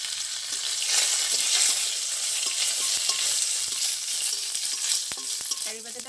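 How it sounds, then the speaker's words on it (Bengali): Bengali five-spice seeds and curry leaves hiss and crackle in hot oil in a pan, a steady close sizzle with sharp pops and a few utensil clinks near the end. "এবার দিয়ে দেবো তেলে 5 ফোড়ন, নিচে কারি পাতা"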